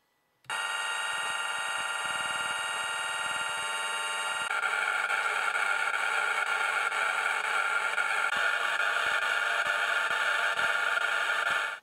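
A replica vintage computer called PlasMa runs several programs through its small built-in speaker, giving harsh buzzing, droning tones. The sound starts abruptly, shifts in texture partway through, stays loud and steady, and then cuts off.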